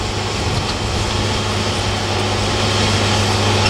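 A Timber Pro TF830 forwarder descending a hill on hydrostatic braking, its engine giving a steady loud drone with a low hum and no breaks.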